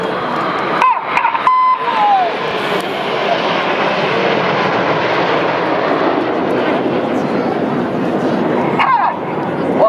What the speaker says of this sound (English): These 4 aircraft are now closing at 850 miles an hour.